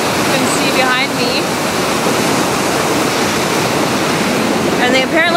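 A river rushing down past a standing spot outdoors, a loud, steady broadband roar of flowing water filling the whole stretch, with faint voice-like traces near the start and end.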